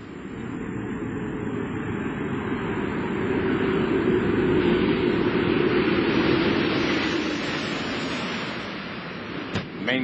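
Space shuttle Atlantis glides down toward the runway at Kennedy Space Center's Shuttle Landing Facility, a steady broad roaring rush swelling and then easing over ten seconds, heard from a distance.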